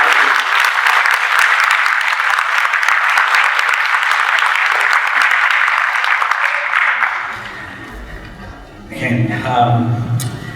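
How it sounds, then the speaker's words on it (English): An audience at Ottawa City Hall breaks into sustained, loud applause for seven seconds before it fades out and a voice begins speaking. "please give her a round of applause"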